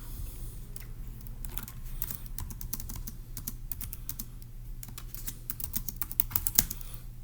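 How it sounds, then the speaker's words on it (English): Steady computer keyboard typing, close and fairly quiet, with a run of rapid keystrokes that grows denser and a little louder toward the end, while notes are entered for a daily Turing Machine logic puzzle; no voices. "let's go ahead and type that up in our notes in section B"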